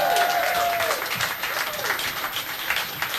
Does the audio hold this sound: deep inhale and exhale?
no